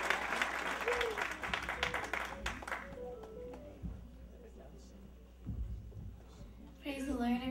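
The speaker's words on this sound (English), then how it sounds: "Applaudissez la Robin et Esther." Applause at a church gathering, a burst of clapping at the start that fades into murmur and a few scattered claps, with speech over it and voices returning near the end.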